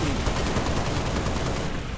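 Rapid, steady gunfire from the video game Halo, a dense stream of closely spaced shots rattling continuously at close range with no pause.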